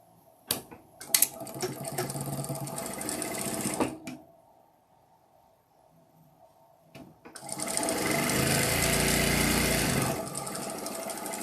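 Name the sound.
sewing machine stitching a seam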